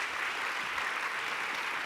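An audience at a health and wellness awards event claps steadily for a nominee, the applause fairly soft and distant, an even wash with no voices.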